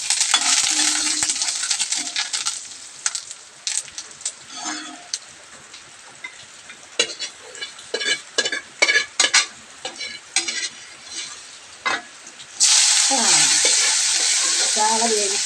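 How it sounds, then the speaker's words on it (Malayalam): Sardines fry in a pan with crushed chilli and shallots as a spoon stirs them, bright crackling sizzle broken by scraping stirs and clinks, then a loud steady sizzle returns near the end. "ചാള വേവിച്ചിട്ടിടുന്നു. ഉടയാണ്ട് ഇളക്കണം."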